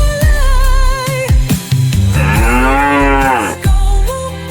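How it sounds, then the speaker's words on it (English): Animated cows on a bus mooing in a children's song arrangement, several long, loud, pitched moos in sequence with musical tones and no talking. "The cows on the bus go moo, moo, moo, all the way home."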